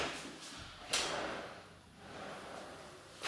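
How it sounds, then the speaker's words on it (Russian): A Blum Tandembox kitchen drawer with partial-extension runners in a glossy painted MDF kitchen slides with a soft rolling rush, then bumps shut with a short clack, followed by a second quieter slide and a closing tap near the end. "Здесь тандемы частичного движения."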